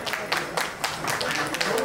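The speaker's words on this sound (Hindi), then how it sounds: "जोरदार तालियां हो जाए एक बार" A crowd at a film trailer launch claps in short uneven bursts, fairly close, with an announcer's voice running over the applause.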